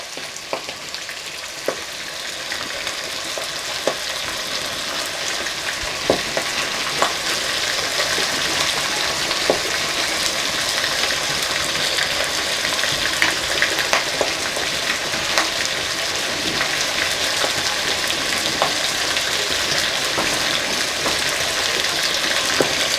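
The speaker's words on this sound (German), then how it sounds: "Ja, das Wasser kocht schon." Water boiling hard in a cooking pot, a steady loud bubbling and hissing roar that carries on alone throughout with scattered pops.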